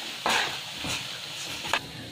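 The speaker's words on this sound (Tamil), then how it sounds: "பெப்பர் ஆட் பண்ணியாச்சு, நம்ம இப்போ மிக்ஸ் பண்ணிக்கலாம்." Spoon stirring prawn gravy seasoned with pepper in a pan, a few soft scraping strokes with a faint sizzle beneath, close and fairly quiet.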